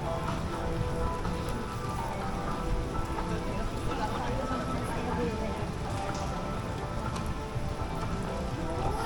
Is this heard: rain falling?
yes